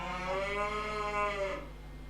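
A single long cow moo from a barn in the video game Farming Simulator 25 rises and falls over about a second and a half, then fades into quiet background hum with no talk.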